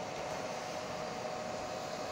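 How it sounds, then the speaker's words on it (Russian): Cooling fan running inside a disassembled Big Dipper F1000+RGB laser projector, mounted on a massive metal bracket, gives a steady close whooshing drone with a faint tonal hum, alone and unbroken throughout. "Зеленый вентилятор стоит, а тут, как ни странно, рабочий."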